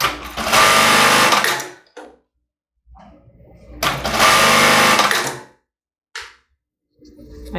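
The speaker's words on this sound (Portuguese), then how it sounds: "a gente vai costurar esse lado aqui primeiro" A sewing machine stitches the seam of a padded foam-cup bra in two loud, steady runs separated by pauses with small handling clicks.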